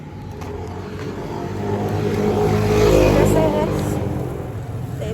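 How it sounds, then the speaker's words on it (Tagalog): Steady roar of vehicles on a Philippine highway, swelling as one passes close around the middle and fading again, with a constant rumble of traffic underneath and a voice speaking. "Dito na kami sa highway."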